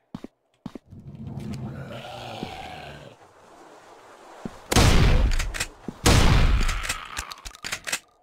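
Shotgun blasts in the zombie game Zombieland Fukuoka: two heavy, loud broadband booms a second or so apart, each with a decaying tail, after a stretch of quieter ambient game noise and a few small clicks.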